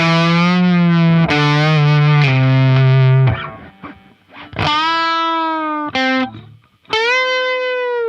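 Electric guitar played with distortion through a Laney pedal, its added harmony a fourth lower giving a thick doubled tone; several sustained notes and short phrases with gaps between, loud and close, no talking.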